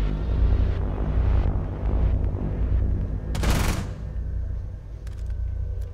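Vector submachine gun fire in Rainbow Six Siege on the Coastline map, a loud rapid burst standing out amid continuous game ambience and scattered distant shots.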